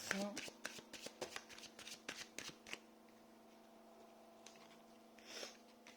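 Tarot cards are shuffled close by in a quick series of crisp riffling bursts during the first three seconds, then go quiet apart from a low hum, with one more short riffle near the end.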